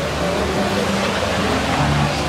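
Steady broadband rush of a theme-park waterfall on the Expedition Everest ride area, continuous and fairly close, with no talk over it.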